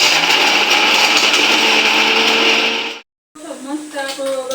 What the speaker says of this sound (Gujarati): તો જો આ બધું મિક્સ થઈ ગયું છે ને ફટાફટ એને મિક્સરમાં ક્રશ કરી લઈએ.